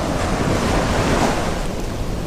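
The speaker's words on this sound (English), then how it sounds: "You can see the waves breaking out here." Waves break on a limestone reef off a beach in South West Western Australia. The surf is a continuous, dense roar mixed with steady wind noise on the microphone, and no voices are heard.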